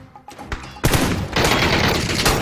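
Gunfire in a shooter video game: a few sharp shots, then a dense, loud barrage of overlapping bursts that continues to the end.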